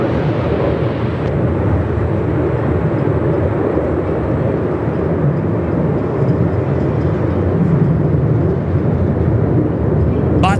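Jetstar jet airliner taking off at Melbourne Airport in strong wind, a steady loud broadband roar that holds for the whole stretch with wind rumble underneath.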